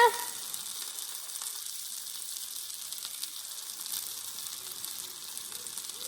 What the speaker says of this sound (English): So we're just going to start refrying these beans.